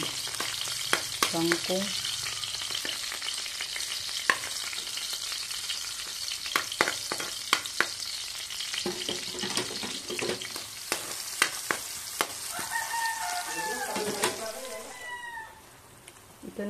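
Food sizzles and crackles steadily in hot cooking oil, with water spitting in the pan, while a person talks intermittently over the frying.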